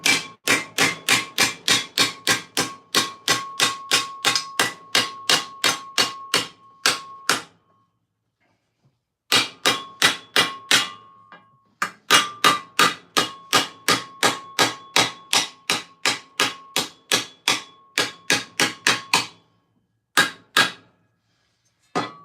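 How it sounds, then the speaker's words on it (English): Small flat hammer with a slightly concave face beating SCA armour plate from the inside, ringing metallic blows in rapid, steady runs broken by short pauses, loud and close with no talk. "So the smallest flat hammer I have, I'm doing on the inside, but it's got a bit of a concave to it"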